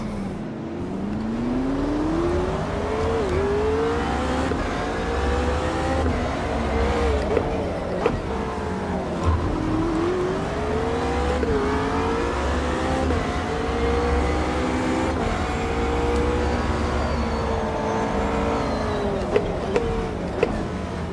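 A McLaren race car in Project Motor Racing revs steadily, its engine note climbing and dropping through repeated gear changes as the car races on, loud and close throughout.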